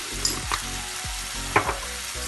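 Brussels sprouts sautéing in a pan with salt, red pepper flakes and black pepper, sizzling steadily up close, with a few stirring knocks and scrapes and no speech.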